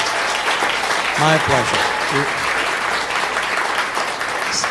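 An audience gives a sustained round of applause, a dense steady wash of clapping throughout, with someone briefly speaking a short phrase over it.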